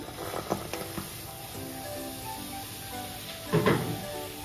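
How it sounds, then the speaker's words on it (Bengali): Water heating in a nonstick pan for aloo kulcha gives a steady hiss and bubbling sizzle, with a few louder knocks and a burst near the end. There is no talking. "জলটা যখন এরকম ফুটে উঠবে"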